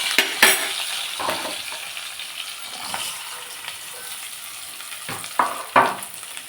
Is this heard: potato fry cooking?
yes